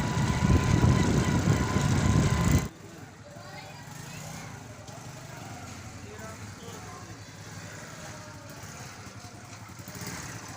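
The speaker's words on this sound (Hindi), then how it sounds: "बाइक के ऊपर अब्दुल मोईद साहब भी बैठे हुए हैं।" A motorcycle carrying a rider and passenger on a trip to a shop: a loud, rough engine drone for the first couple of seconds, then a sudden drop to a quieter, steady running hum with faint road noise.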